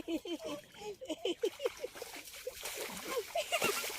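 Children splash and slosh water in a village pond in a series of close, irregular splashes, with excited voices talking and shouting throughout.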